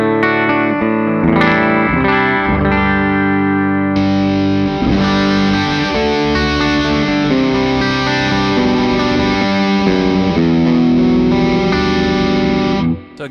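Music Man JP15 John Petrucci electric guitar with hot pickups, played on the bridge pickup through an Aqua Lung transparent overdrive pedal, chords and riffs with light grit, close and continuous for about thirteen seconds before ending abruptly.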